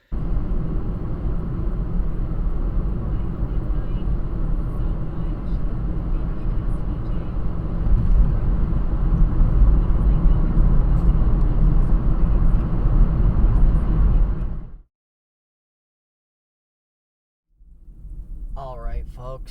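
Car driving at night on a two-hour stretch home from a road trip, a steady low rumbling road and engine drone from inside the cabin that swells slightly, then cuts off into silence before a voice speaks.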